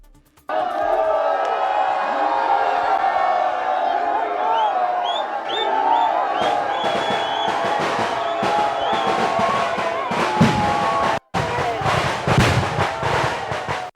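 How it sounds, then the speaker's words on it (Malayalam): A large crowd roars, whoops and cheers as the Veeyapuram Chundan snake boat is launched into the water before the Nehru Trophy boat race. The cheering is loud and sustained, with rhythmic shouts and thumps. "ആർപ്പുവിളികളുടെ ആരവത്തോടെയാണ് ഈസ്റ്റേൺ വിയപുരം ചുണ്ടൻ നീരണിഞ്ഞത്"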